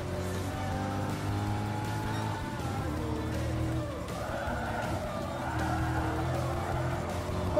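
A race car in the Gran Turismo video game on PlayStation skids and brakes, its engine whining steadily while tires squeal in rising, wavering tones toward the end.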